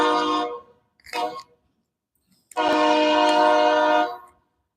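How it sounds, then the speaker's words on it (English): A passing train's horn blows three times up close: a longer opening blast, a brief short toot, then a loud sustained blast, with quiet gaps between. "I always like watching the trains that go by, especially if they got good graffiti."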